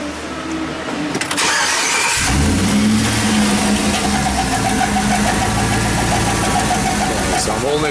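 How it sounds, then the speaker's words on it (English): A Chevy/GM LS engine in a truck cranks and fires up, then settles into a loud, steady idle with a rapid ticking lifter noise running throughout. "We're going to fire up the truck so we can hear the noise."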